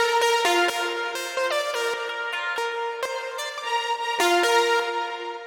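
Mid-layer synth leads from a progressive house production play a clear, plucky melodic line of repeated short notes with sharp attacks, bright harmonics and steady volume, with no voice over them.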